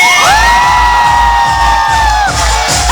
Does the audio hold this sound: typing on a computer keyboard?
no